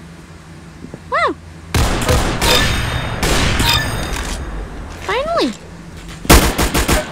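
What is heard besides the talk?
gunfire in the video game Arsenal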